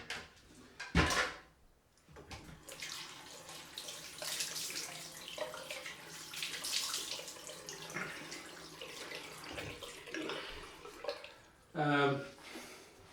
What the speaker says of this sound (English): So let's now rinse all this off.